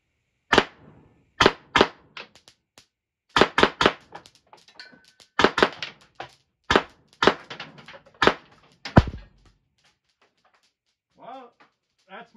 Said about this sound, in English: let's do a mag dump